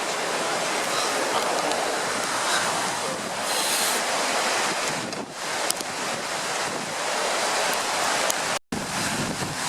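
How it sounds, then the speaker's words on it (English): Torrential rain drumming on a Dutch army tent while camping, a dense, steady roar of close, continuous hiss with gusty swells and a brief dropout near the end. "it is torrential rain"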